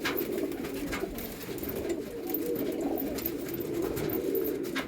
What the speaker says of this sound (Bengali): যেমন নজর তেমন উড়ান পায়রাটা দেখুন